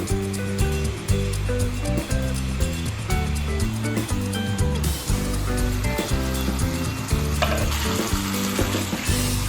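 Marinated beef for biryani sizzles in a pot on the stove, a steady close frying hiss with occasional stirring, under continuous background music.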